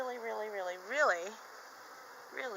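Honey bees from an opened hive set on bricks buzz in a steady, close drone that swells and wavers, with a louder surge near the middle before settling back to a softer hum.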